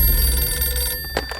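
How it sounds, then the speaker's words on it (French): A telephone rings with a bright, continuous electronic tone for about a second, then stops, leaving a couple of short faint clicks and room noise. "mon téléphone sonne"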